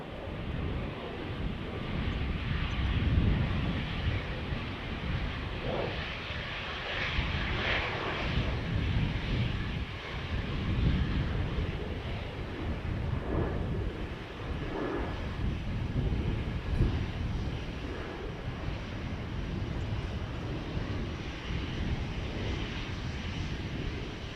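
An Emirates airliner at Dublin Airport roars as a broad, steady engine rumble, fairly distant and sustained, under light wind noise with no talk.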